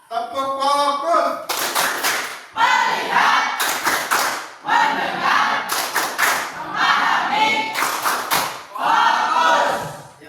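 A classroom of students performs a rhythmic clapping chant, repeated bursts of loud group claps interleaved with chanted voices, close and energetic.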